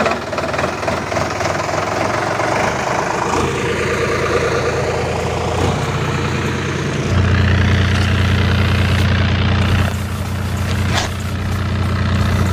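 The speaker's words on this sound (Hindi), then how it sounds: "मैं स्टार्ट करने वाला हूँ ट्रैक्टर को" Tractor engine with an extended silencer pipe idles loudly and steadily, a deep thumping drone that grows heavier partway through, with no talk over it.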